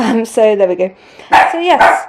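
A pet dog barks several times indoors, loud and close, mixed in with someone speaking; a burst of sharper barks comes after a short pause.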